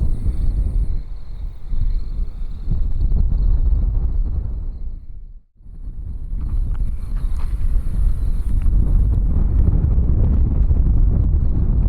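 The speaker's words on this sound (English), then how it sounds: "the wind is horrific out here" Strong wind buffeting a microphone outdoors on a boulevard at Boca Chica, a loud continuous low rumble that drops briefly midway, then roars back, with no one talking.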